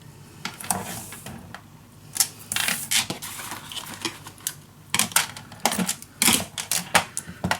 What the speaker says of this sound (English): You just score a ½ inch. And then you just cut it at 1 inch.